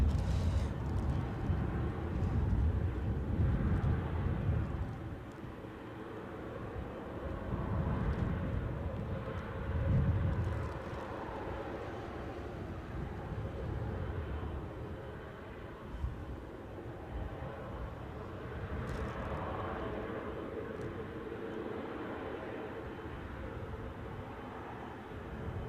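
A Corendon Airlines jet at Newcastle airport rumbles from a distance, its low roar swelling and fading in broad waves, faint and steady throughout with no talk.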